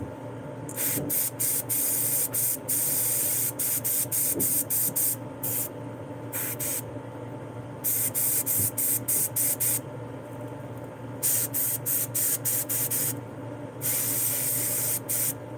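Black spray paint hisses from an aerosol can through a stencil in a series of loud, close bursts of varying length, separated by short pauses with a low background hum.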